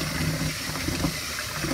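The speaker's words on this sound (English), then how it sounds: "So what we do is just let the water run for a while, and it will keep stirring that around." Tap water runs steadily over Nandina seeds and fruit debris, a continuous rushing, splashing wash at moderate volume with no voices.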